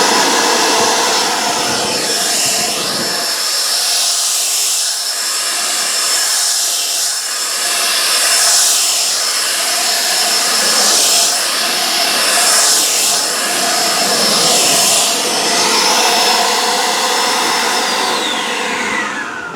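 A blow dryer runs loud and steady on car paint, its whooshing airflow close and constant, wavering slightly in pitch as it moves.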